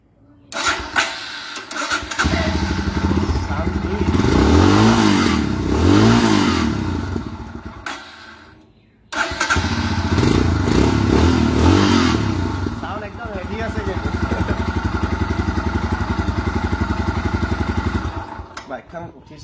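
A Royal Enfield Scram 411 motorcycle engine fires up and runs with a loud, steady rumble that briefly drops away near the middle before picking up again, with people talking nearby.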